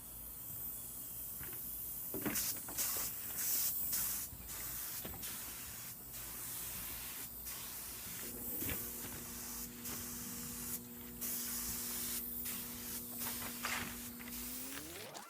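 Short hissing bursts of spray paint splatter onto a decorative table surface during resurfacing, coming in repeated quick puffs. A steady tonal hum rises underneath in the second half.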